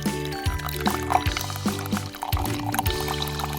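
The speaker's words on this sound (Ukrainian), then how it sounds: "Тепер візьму чайник з водичкою і наливаємо воду." Water pours from a kettle into a pot in a toy cooking scene, a short, splashy trickle heard close up over a background of stepped musical tones.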